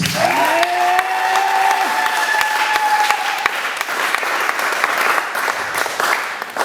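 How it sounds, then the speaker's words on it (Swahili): Church congregation clapping together in sustained, dense applause at a Swahili worship service, loud and steady throughout with a brief tonal cry near the start. "Ongeza tena makofi kwa Yesu."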